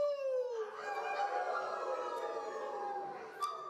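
Members of a church congregation at a Sunday service imitate wolf howls, a blend of many rising and wavering voices forming a loud, sustained group howl that slowly fades.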